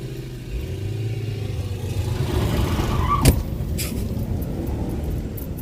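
BMW E39 540i with a sticking fan clutch, a car engine revving up and passing nearby, a mid-range drone rising to a brief sharp peak before settling into a steady rumble, no voices.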